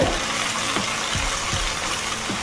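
Water poured into a pan of crab curry with a ginger-garlic paste base, a continuous close gush with light gurgles, steady throughout and free of speech.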